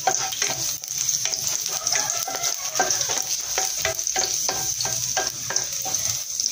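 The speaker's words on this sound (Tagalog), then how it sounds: "Gigisa lang natin itong bawang sibuyas." Garlic sautéed in hot oil for squid, a dense continuous sizzle close up, broken by quick rhythmic scrapes and taps of a spatula stirring the pan, with no voices.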